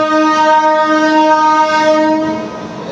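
A loud, sustained passenger train horn on the Karur to Bangalore line blares steadily with a rich harmonic tone, then softens slightly near the end.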